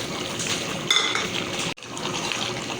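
Boiled chickpeas tipped into a boiling pot of rice for chicken chana pulao: a bubbling, watery wash with a brief clink of utensil against the pan, a sudden short gap, then continued simmering.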